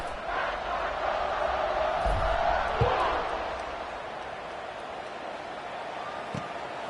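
A football stadium crowd roars steadily through a college game between Marshall and Coastal Carolina during a kickoff, a broad continuous wash of cheering that swells and then eases, with a sharp thump near the middle.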